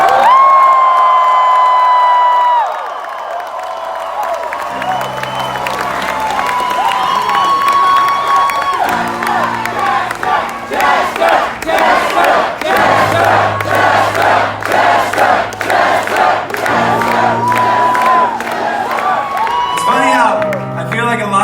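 Live concert crowd at a show roaring and shouting, with sustained loud cheers, whoops and screams throughout, a bright vocal tone near the start and deep tones entering beneath the noise.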